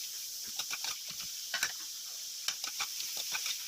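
Garlic sautés for escabeche fish with a light, steady sizzle, broken by a quick series of small ticks and scrapes as a utensil stirs the pan.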